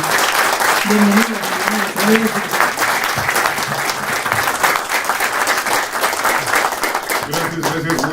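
Audience applause at a Mexico City public security press conference welcoming the secretary of public security to the floor: sustained, even clapping from a room full of people, with a voice speaking briefly over it.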